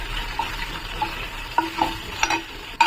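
Cumin, mustard seeds and three cut green chillies frying in a pan, a steady close sizzle with occasional pops and stirring scrapes.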